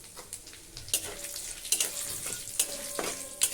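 Whole cinnamon, cloves, cardamom, three chilies and cumin seeds crackle in hot oil, a soft sizzle broken by several sharp pops and spatula scrapes against the pan, close by with no talking.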